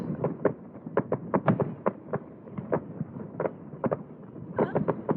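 Distant fireworks pop and crackle in an irregular string of sharp bangs, heard from a sailboat in the Maddalena Archipelago, fairly faint against a low rumbling background.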